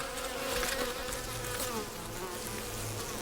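A dense swarm of honeybees hums steadily at the hive, a continuous close buzz with many overlapping wingbeats and no voices.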